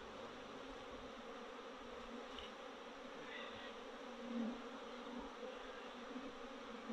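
Honeybees buzz in a dense, steady drone after a hive is shaken, a continuous agitated hum filling the whole stretch with slight swells, close and moderately loud, with no voices.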